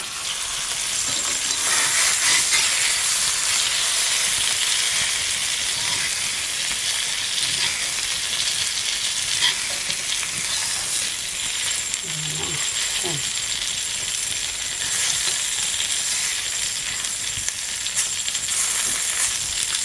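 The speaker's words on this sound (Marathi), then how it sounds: "मच्छी फ्राय करतो त्या पद्धतीने हा खडस सुद्धा फ्राय करायचा" Dried salted khadas fish frying in oil in a pan, with a continuous loud hissing sizzle that stays steady throughout, some faint clinks partway through, and no talk.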